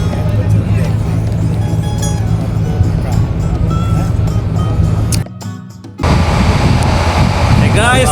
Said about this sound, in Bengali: আমাদের বোট সামনে থেকে আরও এগিয়ে যাচ্ছে সুন্দরবনের উদ্দেশ্যে